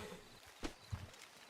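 Horses walk on a dirt street in the Red Dead Redemption 2 western game, a few soft hoof clip-clops close by with no talking.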